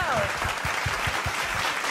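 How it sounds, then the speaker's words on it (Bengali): Audience applause after a dance performance on a televised Bengali dance competition stage, a steady dense patter of many hands clapping throughout with a voice faintly under it. "সবাই হাততালি দাও।"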